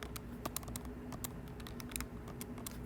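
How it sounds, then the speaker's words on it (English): Calculator keypad buttons pressed in a quick, steady series of light clicks for about three seconds, close and fairly quiet, with no voices. "I'm going to type that into my calculator."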